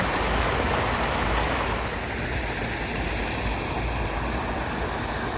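A small waterfall on a garden creek in winter pours continuously, a loud, even rush of splashing water close at hand with no pauses or other sounds standing out.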